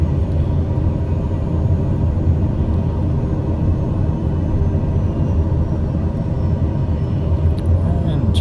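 Steady, loud engine drone and low rumble of a Daher TBM turboprop on landing approach with throttle added, heard from inside the cabin as an even, continuous roar with no talk.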